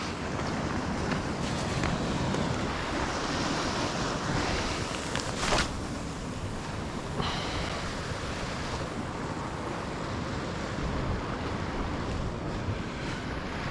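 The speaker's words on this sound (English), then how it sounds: "Well, the wind's starting to pick up now." Steady wind roars across the coast with waves washing in underneath, a loud, unbroken broadband rush with gusty buffeting on the microphone and no voices.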